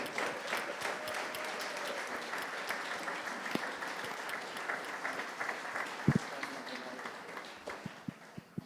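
Applause for a guest being welcomed at a church gathering, a steady wash of clapping from the congregation with some talk mixed in and a few louder claps near the end.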